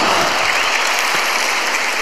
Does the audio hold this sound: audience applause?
yes